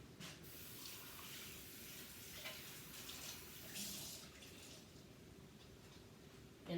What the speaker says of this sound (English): Then I'm going to rinse this off.